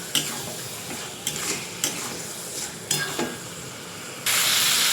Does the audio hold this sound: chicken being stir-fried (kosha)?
yes